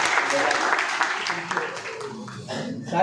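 Applause rises from the audience at a Hindi poetry gathering and mushaira in Guna, loose clapping in the room while a voice talks over it, the clapping thinning into speech toward the end.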